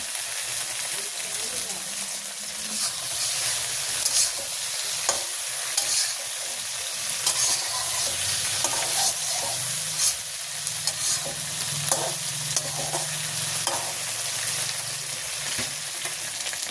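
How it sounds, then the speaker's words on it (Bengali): Fish fries in mustard oil in a village kitchen, a steady broad sizzle with scraping stirs and utensil clinks throughout, fairly close and loud, with no talking. "তো মাছ দিয়ে সুন্দর করে একটু ভাজি ভাজি করে নিলাম।"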